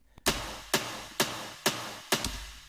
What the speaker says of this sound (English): I have a top kick just for the first 8 bars of the drop